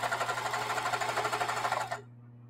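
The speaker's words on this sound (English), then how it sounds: "Then I just have to fill the bobbins up." A sewing machine winds bobbins with a fast, steady, close-up mechanical whir and hum that cuts off sharply near the end, leaving only a low background hum.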